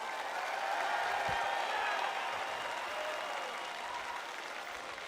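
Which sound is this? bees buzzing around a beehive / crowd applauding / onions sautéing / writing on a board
crowd applauding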